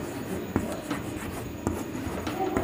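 Steady scratchy writing strokes, with a few sharper taps, as a solution is written out in a Hindi-medium Class 10 trigonometry lesson; fairly close with faint room noise and no talk.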